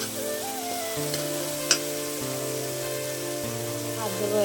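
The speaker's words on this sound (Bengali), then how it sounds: "মশলাটা কষাতে আমি এখানে দিয়ে দেবো পরিমাণ মতো নুন, আর দেবো 2টা টমেটো" Masala with salt and tomatoes sautéing in a pan: a steady gentle sizzle with occasional stirring scrapes and one brief clink, beneath soft background music and a bit of talk.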